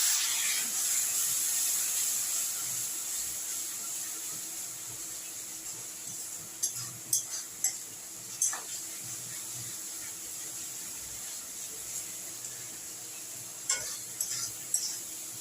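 Water splashed into a pan of frying ginger and garlic with turmeric for an egg tadka gives a steady, fairly quiet sizzle and hiss throughout, with a few brief clinks and stirring taps near the middle and end.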